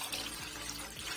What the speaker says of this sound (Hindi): हम यहाँ पे मज़ीद जो है पानी डालेंगे इसमें